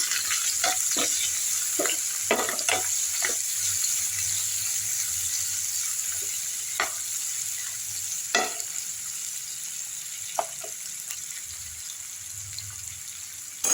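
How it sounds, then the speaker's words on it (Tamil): Onion and garlic sautéing in oil with popped fenugreek and mustard seeds, a steady broadband sizzle with scattered spoon scrapes and clicks against the pan, close and continuous without talk. "இப்போ இந்த வெங்காயமும் பூண்டு எடுத்து போட்டுப்போம் நல்லா வதக்கிடலாம்"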